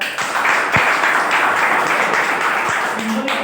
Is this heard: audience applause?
yes